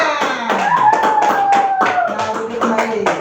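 A class of schoolchildren claps in a steady rhythm, sharp hand claps repeating about twice a second while young voices chant together over them.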